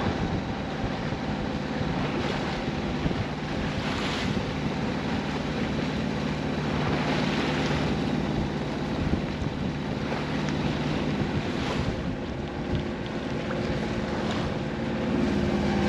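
Strong wind of about 18 to 20 knots gusts over a sailboat at anchor off Oahu, a constant roar with rising gusts and water sloshing against the hull, and no talk.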